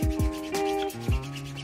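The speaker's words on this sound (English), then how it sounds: "Our quest for waterproof began with some sanding." A 3D-printed plastic buoy part is hand-sanded in a few quick scraping strokes, close and distinct, with a rough rubbing texture and no voices.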